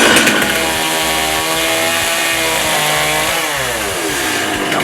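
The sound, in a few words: chainsaw cutting log railing wood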